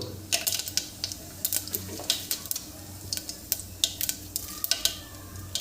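Cumin seeds sizzle in hot oil with mustard seeds already popping in a home kitchen pan. Rapid sharp crackles and pops come in irregular bursts over a low sizzle, close and fairly loud, with no talking.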